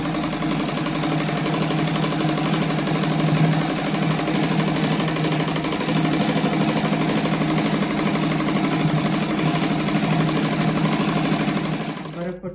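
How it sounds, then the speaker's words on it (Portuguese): A sewing machine stitches a seam on a patchwork rug, running in a continuous, fast, even mechanical whir for the whole span before stopping at the end, with a person talking over it. "vou fazer essa costura"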